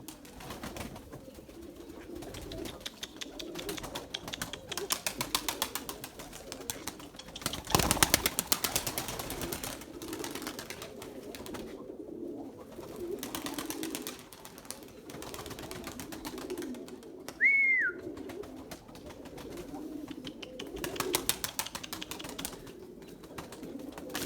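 Erzurum white pigeons coo in low, repeated murmurs with occasional wing flaps and a brief chirp. The sounds are moderately close, over an outdoor background with no talking.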